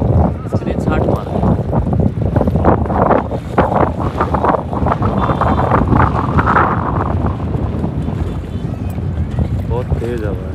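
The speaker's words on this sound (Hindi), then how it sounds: "बहुत तेज हवा है" Strong wind on a boat near Rishikesh roars continuously into the microphone as loud, buffeting noise with splashing water, and voices are partly buried beneath it.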